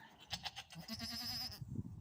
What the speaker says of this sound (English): Little pig, complaining.